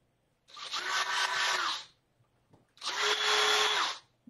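Two bursts from a power drill on a fall craft project, each about a second and a half long with a short pause between, loud and close with no talking.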